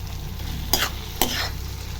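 Fried chicken pieces tossed into Manchurian sauce in a pan, with a constant sizzle broken by two sharp scraping stirs about half a second apart; no talking.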